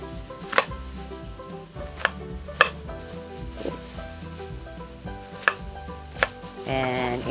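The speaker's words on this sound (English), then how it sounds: "I'm going to cut this onion really quick." A knife roughly chopping an onion on a board for ground beef pepper steak, a handful of sharp, irregular knocks over a faint background sizzle, ending with a brief scrape.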